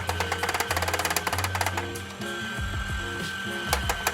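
Small toy engine running at stock speed with a fast, rhythmic mechanical clatter and grinding, then shifting to a rougher, uneven grinding whir, close and fairly faint.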